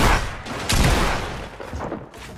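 Pump shotgun blasts in a Fortnite Battle Royale match, a few heavy booming shots close by amid scattered in-game noise.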